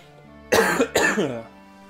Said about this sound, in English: I'm actually gonna cough.